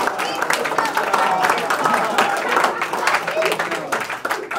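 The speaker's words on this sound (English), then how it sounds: "Give that up for round of applause." Guests applaud at a 30th birthday party. Brisk, close clapping runs throughout at a steady level, with a few voices mixed in.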